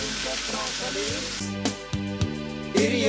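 Softened vegetables with tomato sauce, salt, pepper and a bay leaf sizzling in a pan for lasagna, a steady close crackle with a few sharper pops and spits toward the end, under a speaking voice.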